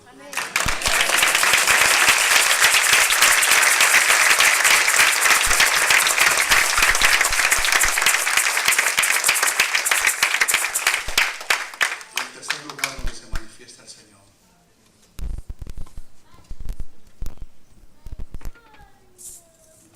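A church congregation breaks into loud, dense applause for about twelve seconds, then it fades into scattered claps and murmuring voices.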